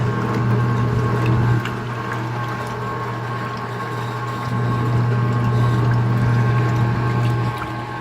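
A 2017 Speed Queen washing machine on its final rinse, with a steady loud hum of motor and pump and rushing water that stays constant and shifts in level partway through.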